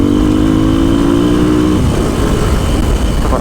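A Japanese enduro motorcycle on enduro tyres runs close by, holding a steady engine note that drops into a lower, rougher rumble partway through, loud and constant with no talking.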